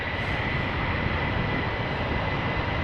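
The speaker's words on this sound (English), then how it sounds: "This is Delta Airlines flight 259, Airbus A330-300, destination Boston," A Delta Airlines Airbus A330-300 at Amsterdam Schiphol Airport gives off a steady, broad jet roar that holds constant throughout at a moderate distance, with no voices.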